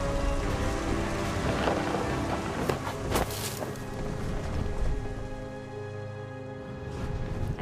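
Steady rain hiss with a rumbling roll of thunder from a storm scene in the video game What Remains of Edith Finch, continuous and fairly loud throughout with no talking.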